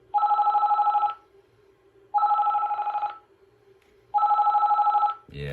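A cordless DECT landline telephone rings electronically in three loud, even bursts of rapid warbling tones, each about a second long with pauses between, heard close with a faint background hum and no talking.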